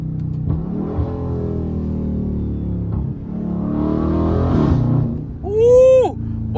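A Dodge Scat Pack with a muffler delete revs hard on a back road, its exhaust rising and falling in loud, growling surges close to the listener.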